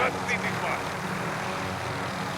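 Helicopter engine in the Warzone shooter game, a steady, dense rotor-and-engine whir held throughout the short stretch, with a voice briefly over it.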